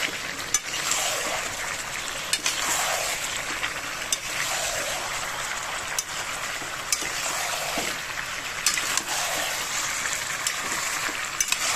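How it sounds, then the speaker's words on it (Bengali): Fried potato and papaya being stirred with chicken in a sizzling pan, the spatula sweeping through in repeated scraping strokes about every two seconds over a constant frying hiss, with small clicks against the pan. "ভাজা আলু আর পেঁপেটা এতে দিয়ে দিলাম। মাংসের সাথে ভালো করে নেড়ে চেড়ে মিশিয়ে দেব।"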